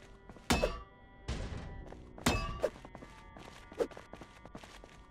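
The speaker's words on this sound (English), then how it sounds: "Let's destroy all the boxes." Cardboard boxes being punched and smashed in the Project Zomboid video game, four hollow thunks and thuds at uneven intervals over about five seconds, each with a short scraping tail, fairly close with no talking.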